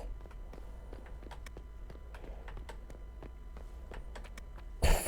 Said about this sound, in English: I have footstep sounds